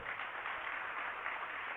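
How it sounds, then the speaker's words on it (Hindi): An audience applauds at a religious gathering in Dongargarh, a dense, sustained wash of clapping from many hands, fairly loud and steady across the short stretch. "उनके श्रम की सराहना की जाए, तालियां बजाई जाए।"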